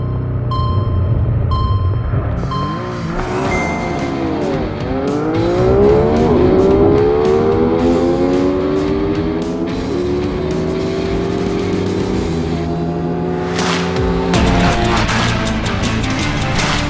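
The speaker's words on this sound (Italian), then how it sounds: "a scaldarla ci pensa la nostra Drag Race con queste tre magnifiche moto" Sport naked motorcycles from KTM, MV and Triumph, including an 800 RR, roar and rev hard as they accelerate away together in a drag race, pitch climbing through gear changes, loud and close, ending with sharp bursts.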